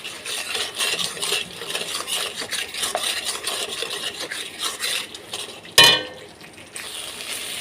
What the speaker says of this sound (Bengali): এবার এই মশলাটা ততক্ষণই কষবো যতক্ষণ না মশলা থেকে তেলটা ছেড়ে যাচ্ছে।